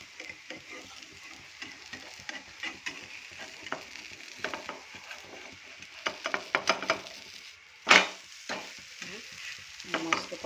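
A breakfast batter pancake fries in a pan after being flipped, giving a soft, steady sizzle up close, with scattered light clicks and a sharper utensil scrape partway through.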